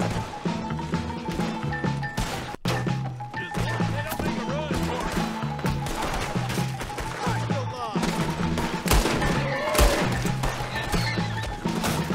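Chaotic gunfight in Red Dead Redemption 2, with repeated gunshots and crashing impacts sounding close and steady, mixed with horse sounds, game music and voices talking throughout.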